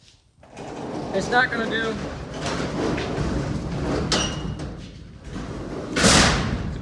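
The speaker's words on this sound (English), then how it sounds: "I'll shut this door" A shop door is pulled shut, ending in a brief, loud thud near the end after a stretch of nearby talking and background rumble.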